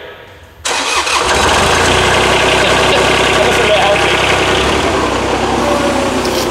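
An engine cranks and fires up abruptly, then settles into a loud, steady idle rumble close by.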